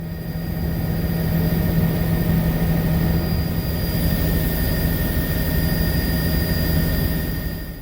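A loud, steady helicopter engine roar with a constant low hum and high whine, unbroken throughout, as if heard from inside the cabin during a powerline patrol flight.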